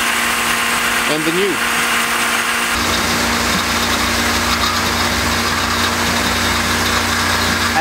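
A pump circulating calcium chloride brine into a main tank runs with a loud, steady engine-like drone that thickens partway through, with a person speaking briefly over it.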